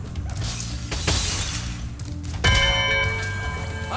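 Bell rings out in the Cloud Temples level of the video game Spyro Reignited Trilogy, a bright metallic strike with a long shimmering ring that follows a brief clattering, crashing burst.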